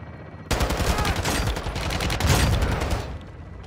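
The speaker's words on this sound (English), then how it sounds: "Taking belt-fed fire from beneath the tower." Belt-fed machine gun fire in a video game: a dense, unbroken burst of rapid shots starts abruptly and rattles on loud for nearly three seconds before easing off.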